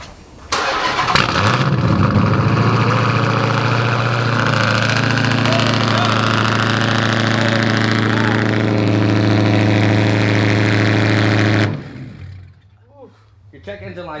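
A 2019 Ford Mustang GT's V8 idles loudly with a deep steady rumble for about eleven seconds, building slightly as if revved, then cuts off abruptly; a voice talks over it and speech continues faintly afterward.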